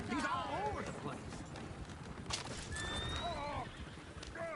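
Horses neighing and whinnying in the Red Dead Redemption 2 video game, several shrill calls across the scene over steady clip-clop and background noise, with a voice speaking among them.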